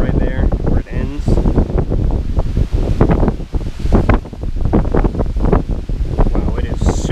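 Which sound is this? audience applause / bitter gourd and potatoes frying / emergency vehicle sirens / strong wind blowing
strong wind blowing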